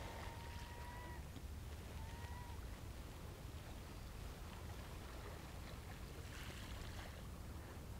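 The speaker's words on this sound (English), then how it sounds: "I hope you can hear the sea." Sea waves wash steadily on the Cape Cod shore as a faint, continuous broadband rush at low level, with a few brief high tones over it.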